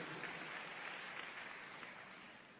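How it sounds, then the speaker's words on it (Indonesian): A church congregation applauds warmly for God, a dense, steady wash of many hands clapping that carries evenly for a few seconds before easing slightly, with no talk over it. "Yang setuju berikan tepuk tangan yang meriah buat Tuhan."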